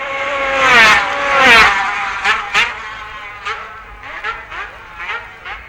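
Yamaha racing motorcycles at the 1966 Isle of Man TT scream past with rising and falling engine whines. Two loud close passes come first, followed by a string of shorter, fainter bursts from more distant machines.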